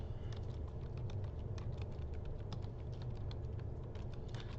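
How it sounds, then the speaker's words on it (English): Rapid, irregular clicks of typing on a computer keyboard during a lecture, fairly faint over a steady low hum of room noise, with no talking. "I'll just correct my typing, okay?"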